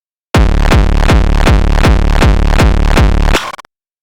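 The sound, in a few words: distorted hardcore kick drum with LFO-controlled distortion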